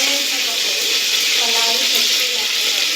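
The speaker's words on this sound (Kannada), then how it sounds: "ಎಣ್ಣೆ ಕಾಯ್ದ ಮೇಲೆ ಸಾಸಿವೆ ಜೀರಿಗೆ ಹಾಕೋರಿ." Mustard seeds and cumin sizzling in hot Gold Winner oil, a steady, close, bright hiss of frying that holds evenly throughout while a voice speaks over it.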